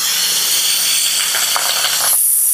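Chopped onion and garlic hit hot oil in a heated wok, giving a loud, steady sizzling hiss that runs close and unbroken, then sharpens into a brighter, higher spitting near the end.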